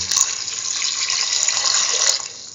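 Water pours steadily and close into a pot for a potato chayote stew, a bright continuous splashing that tapers off at the end.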